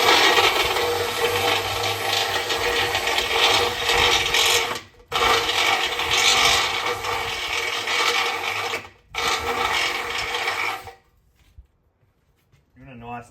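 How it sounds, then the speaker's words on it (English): A drill fitted with a gold bit enlarges a pilot hole for a Lokk Latch Deluxe gate latch on a fence, three loud grinding bursts split by brief pauses, then quiet. "we use our gold drill bit,"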